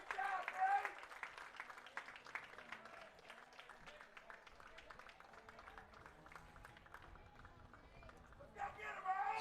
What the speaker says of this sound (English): we'll get a big round of applause from the Wampus Cat fans here